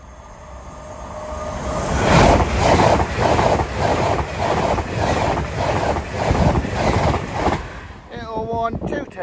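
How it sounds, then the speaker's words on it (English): An LNER passenger service bound for London King's Cross rushes through a level crossing at Hett Mill, a loud, rhythmic rumble of wheels swelling in and roaring past for several seconds before easing off, with a faint voice near the end. "Next service pass through is LNER service off to London King's Cross."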